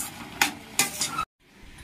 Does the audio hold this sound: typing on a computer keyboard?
no